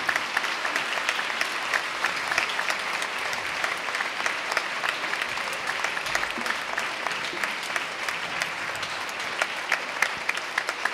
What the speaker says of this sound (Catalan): Demani també un fort aplaudiment a tot i aquell que ha anat possible aquest espectacle.